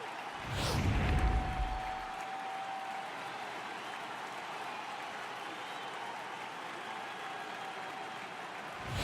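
Stadium crowd cheering and applauding in an MLB baseball video game during a postseason Division Series game; a brief louder swell of cheers and claps at the start, then a steady distant crowd roar carrying on underneath.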